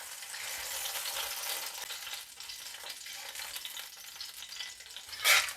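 Chili and garlic sambal fries in oil, giving a soft, continuous sizzle with light stirring scrapes throughout and a brief, sharper burst of crackling near the end.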